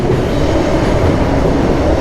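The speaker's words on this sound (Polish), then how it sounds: "Mam okazję dzisiaj nagrać super wjazd pociągu Ełka z, y, z Łodzi" A ŁKA Griffin passenger train from Łódź pulls into a station platform in Poland, its loud, steady rumble of wheels and carriages filling the whole stretch without any voices.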